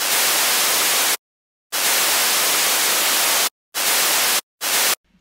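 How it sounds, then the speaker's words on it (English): Bursts of harsh, broadband hiss added as an effect in a remixed freestyle rap track cut in and out abruptly: a long burst, then a longer one, then two short ones, loud with silent gaps and no voices. "I added a hiss effect too to add more intensity"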